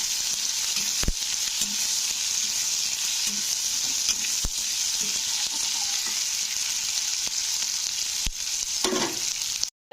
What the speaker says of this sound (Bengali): তো পেঁয়াজটা দিয়ে কিন্তু পেঁয়াজটাকেও ভাজতে হবে।